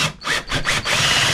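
A power drill spins the handle of a jockey wheel during a refurbishment, its whirring motor loud and close, pulsing in a few quick surges before settling into a steady drone.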